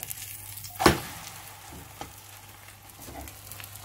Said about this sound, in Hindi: अभी ये पक रहा है तो एक तरफ से पकेगा, फिर दूसरी तरफ से पकाएंगे।